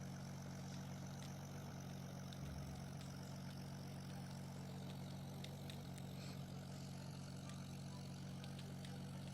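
Propeller airplane engine in a video game about building the fastest plane, a steady low droning hum that holds evenly throughout at a faint, distant level with no talking.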